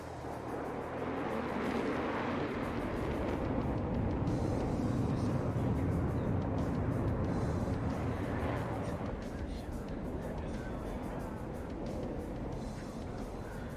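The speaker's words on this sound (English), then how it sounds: "Blaze is now slowing the F-16 to prepare for a slow speed pass" An F-16 Viper fighter jet flies at an air show as it slows for a slow-speed pass, giving a loud, steady broadband roar that fills the whole stretch, with a commentator talking over it.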